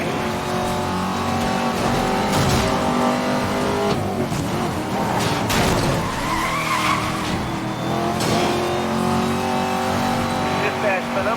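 Cars in the Need for Speed Most Wanted (2012) racing game drive hard with engine roar, revving and tire skids, loud and continuous under game dispatch chatter and music.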